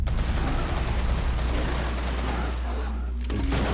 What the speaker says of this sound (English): So you can shoot a rifle grenade there and take out almost all of them, if not all of them, like I just did